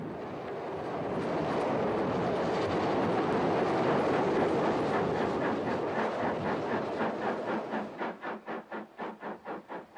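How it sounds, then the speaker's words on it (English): Isle of Wight steam-era train on the Ventnor–Ryde line passing Smallbrook Junction signal box in the 1960s, a broad rumble swelling as it approaches, then fading into a steady, rhythmic clickety-clack of wheels over rail joints. "a Ventnor Ryde train passing behind the box"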